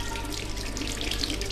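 Tap water runs steadily into a sink as a child rinses soapy hands, a continuous close splashing hiss without talk.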